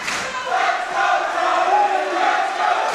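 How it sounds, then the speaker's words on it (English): A boxing crowd on the South Coast chants and cheers during a fight between Andrew Perez and Tony Andreozzi, a loud, sustained roar of many voices that swells and holds for a few seconds. "You hear the crowd come alive here on the South Coast."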